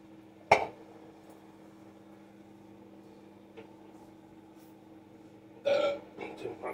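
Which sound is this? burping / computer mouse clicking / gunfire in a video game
burping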